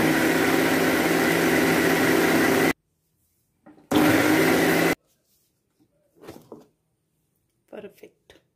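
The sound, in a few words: mixer grinder blending chutney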